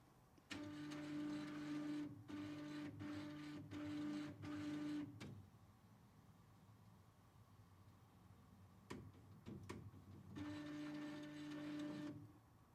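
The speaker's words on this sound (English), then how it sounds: "we can now begin to power on the printer" A Ricoh Ri 1000 garment printer powers on, running through a start-up cycle of rhythmic mechanical whirring and ticking in several short bursts, a quieter gap, then another burst of motor movement.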